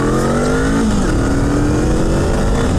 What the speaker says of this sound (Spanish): A mí me gusta mucho este sonido bicilíndrico.